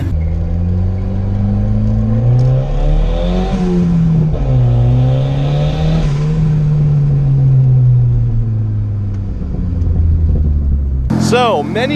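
Big-turbo Volvo car engine revving through its exhaust, a deep loud drone rising and falling in pitch as it spools and eases off, ending with a brief sharp change in sound.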